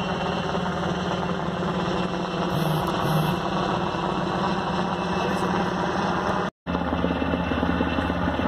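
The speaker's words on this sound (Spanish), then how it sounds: "Acaba de arribar en estos momentos el helicóptero de la Policía Federal aquí al Parque Industrial El Carmen" Federal Police helicopter arriving at an industrial park beside a gas station, its engine a steady loud rumbling drone with a brief dropout near the end.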